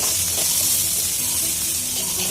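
Spices hitting a hot pan while a vegetarian vegetable dish with papad cooks, giving a steady, loud sizzle and hiss with no talking throughout.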